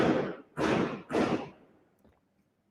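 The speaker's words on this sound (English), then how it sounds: "There's a lot of fireworks going on in Malaysia." Fireworks go off outside at night in Malaysia, three loud booming bursts about half a second apart, each with a rumbling tail, followed by fainter distant pops.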